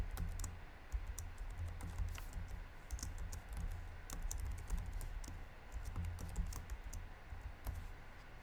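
Code being typed on a computer keyboard for a C# program: a fairly quiet, steady stream of quick key clicks with no talking.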